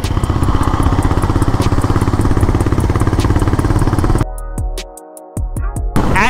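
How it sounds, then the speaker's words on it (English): A Honda CB350 RS motorcycle runs with a steady, close, thumping engine throb, then cuts abruptly to near quiet before a few rough bursts return. "the CB350 RS, the machine that we are riding today"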